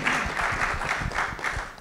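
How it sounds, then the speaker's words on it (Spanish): Audience applause from a seated crowd, steady and dense clapping filling the whole short stretch at moderate loudness, with no voices on top. "Aplaudirle."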